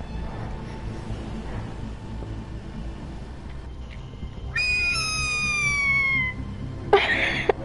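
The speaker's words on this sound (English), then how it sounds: "a cat is trying to hit the other cat" Two cats fight outdoors: a long, wavering, high meow rises over a low background hum, then a short, sharp yowl follows near the end.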